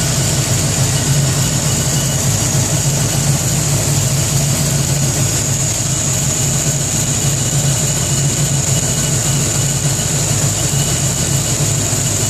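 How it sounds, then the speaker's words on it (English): A car engine with an MSD ignition idles steadily while cooling fans run, a loud, constant close-up drone with a low rumble and an even whirring hum, no talking. "We've got the fans going, the engine's running."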